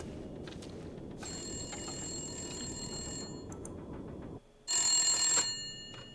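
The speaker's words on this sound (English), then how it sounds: "Oh, the phone's ringing." An old-style telephone bell rings in The Long Dark video game, sounding in two bursts over a steady wintry ambience, the second burst louder and closer after a short quiet gap.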